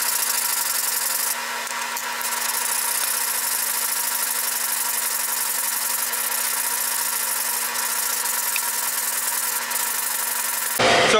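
Continuous abrasive rubbing hiss of sanding a wooden guitar neck, steady and close, with an even rasping texture throughout and no voices.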